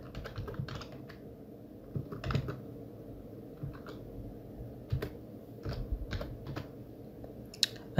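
Keys clatter on a computer keyboard as a file name is typed in desktop mapping software, coming in short irregular bursts of clicks over a low steady room hum, fairly close and moderately quiet.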